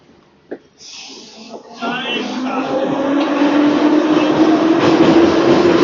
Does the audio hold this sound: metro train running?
yes